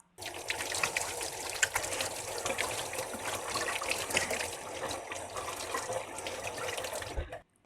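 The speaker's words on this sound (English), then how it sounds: "I'm gonna quick wash that off." Tap water runs steadily into a sink as beet-stained hands are washed, a continuous close splashing trickle that stops abruptly at the end.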